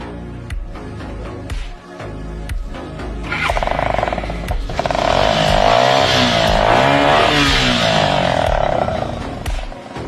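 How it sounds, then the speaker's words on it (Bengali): A motorcycle fitted with a modified silencer exhaust is started up close, catching after a few seconds and settling into a loud, throaty, rumbling idle that holds steady with no talk over it. "আপনার গাড়িটা একটু স্টার্ট দেন তো।"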